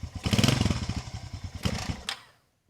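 A motorcycle, a Chinese copy, runs close by with a choppy exhaust putter and a couple of brief revs, then sputters and stalls into silence.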